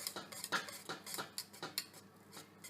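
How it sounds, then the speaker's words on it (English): A utensil stirs custard for galaktoboureko in a metal pot, with light irregular scraping and clinking strokes against the pot, quiet and close with no talk. "Constantly stirring the custard, just like when we make roux"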